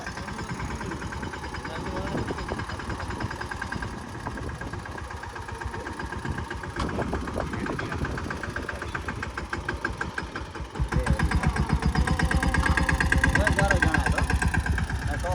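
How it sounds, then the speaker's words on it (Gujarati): A Mahindra 215 mini tractor engine runs steadily throughout while sowing sorghum, a low rhythmic chugging that grows louder and closer near the end, with faint voices underneath. "હવે નાની મિની ટ્રેક્ટરથી વાવેતર ચાલુ કર્યું છે."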